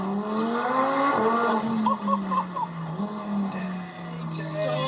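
A twin-turbo V10 car engine drones near and loud, its pitch dropping through a downshift with brief crackles, echoing off nearby buildings.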